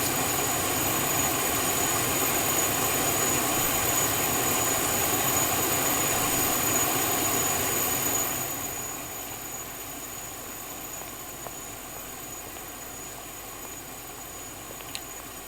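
Auxiliary power unit exhaust of a Challenger 650 business jet in X-Plane 11, a steady broadband roar with a high whine that drops to a lower, quieter hum partway through.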